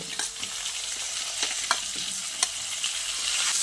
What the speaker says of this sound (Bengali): এবার কুমড়োগুলো দিয়ে আলুর সঙ্গে আরও কিছুক্ষণ ভেজে নেব।